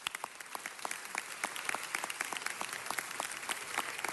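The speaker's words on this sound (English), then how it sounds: "So if you could please, everybody, give Norma Roque a round of applause." Sparse applause from attendees at a city council meeting, individual claps distinct and steady across the hall, moderately loud with no talk over it.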